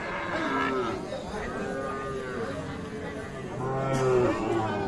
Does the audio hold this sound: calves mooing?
yes